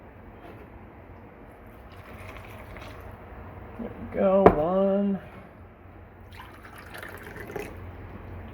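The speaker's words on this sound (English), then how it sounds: "we're going to do 2 cups of water in there" Two cups of water poured into a liquid measuring cup while making pizza dough give a brief, bright filling splash partway through, with someone talking before and after it.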